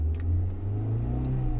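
A car engine revs steadily in neutral while an Arduino-based cruise control drives the throttle, giving a continuous low, even drone with a few faint higher clicks, close and alone.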